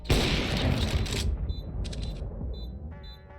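Gunfire and a grenade explosion in a Counter-Strike competitive match on the Mirage map: a dense loud burst of shots and blast for about a second, then scattered quieter shots and game effects trailing off.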